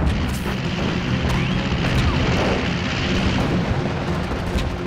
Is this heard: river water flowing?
no